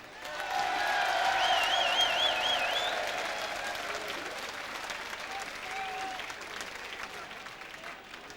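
An audience at a carnival prince's proclamation evening in Horst breaks into warm applause that swells quickly, holds full for a couple of seconds, then settles into steadier, thinner clapping with a faint murmur of the crowd underneath.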